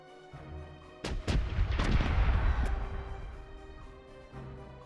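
Naval cannon fire in the Corsairs Legacy game: a run of heavy booming shots from a sailing ship's broadside, several sharp blasts in quick succession over a low rumbling battle bed, loud and close with no talk.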